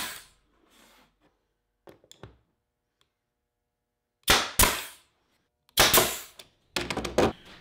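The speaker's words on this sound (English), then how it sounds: "so I'm going to hold the nail gun on an angle" A pneumatic nail gun driving 5/8-inch nails into a wooden Langstroth beehive frame, held at an angle; sharp percussive shots come in uneven bursts of two or three, with quieter ticks and pauses between them.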